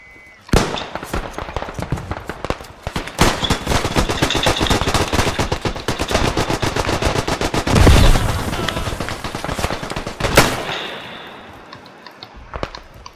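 Sustained machine gun fire in the online war game Beyond The Wire, rapid loud bursts of shots running almost nonstop for about ten seconds with a heavy explosion-like thump midway before fading.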